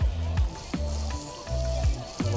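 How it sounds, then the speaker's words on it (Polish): Water from an outdoor beach shower in Benidorm, Spain, hisses and splashes in repeated bursts as feet are rinsed off, steady and fairly close. "przy schodzeniu z plaży można sobie spłukać nogi."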